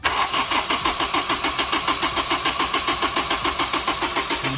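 A Honda S2000 engine cranks on the starter during a compression test, loud and close, with rapid, even pulses of rhythmic churning as the engine turns over without firing for several seconds.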